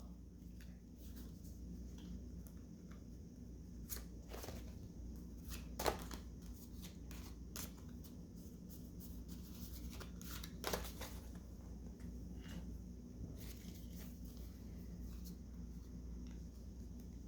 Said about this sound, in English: In this sequence here, I've laid out 4 cards.